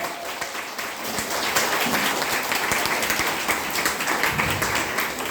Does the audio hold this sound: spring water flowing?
no